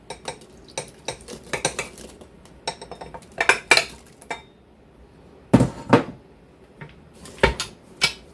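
A utensil stirs apple fritter batter in a bowl, giving irregular clinks and knocks against the sides at close range, in scattered bursts with short pauses.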